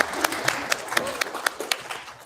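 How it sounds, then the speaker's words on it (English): A conference audience at an AI ethics event claps in a modest round of applause, scattered individual claps ringing out across the room and tapering off. "One more round of applause."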